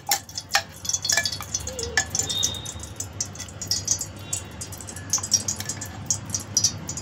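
Oil heating in a kadhai for a prawn and pea masala, with soft crackles, light sizzling and scattered metallic clinks and scrapes of a ladle against the pan, fairly close and quiet.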